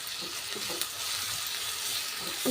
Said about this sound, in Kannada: ಚೆನ್ನಾಗಿ ಕೆಂಪಾಗಬೇಕು ಈರುಳ್ಳಿ ಆ ರೀತಿ ಫ್ರೈ ಮಾಡ್ಕೋಬೇಕು